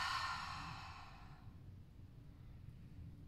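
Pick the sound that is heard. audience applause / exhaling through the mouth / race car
exhaling through the mouth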